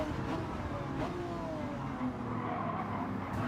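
A Bugatti Veyron's engine drones steadily during a Gran Turismo 7 online public lobby race, with rising, revving tones layered over a continuous mid-level roar.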